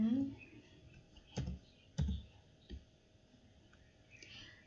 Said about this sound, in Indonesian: saya ketik manual.